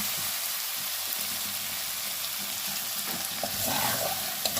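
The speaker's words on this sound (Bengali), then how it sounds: "আমার কিন্তু মাছগুলা কষানো হয়ে গেছে" Rui fish fries in a pan of oil, giving a steady, dense sizzle that runs unbroken from start to finish, close and fairly loud, with a slight swell near the end and no voices.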